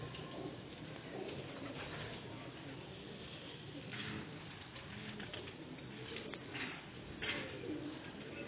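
Pigeons cooing in a bird-keeping setting, soft repeated throaty coos rising over a steady background hiss, fairly close and moderately quiet, with no talk over them.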